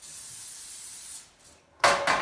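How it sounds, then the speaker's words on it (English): Aerosol cooking spray hissing onto a baking dish in a kitchen: a long steady spray of about a second, a brief pause, then a louder second burst, close and alone with no talk. "we're supposed to spray the dish to get ready to pour the batter in"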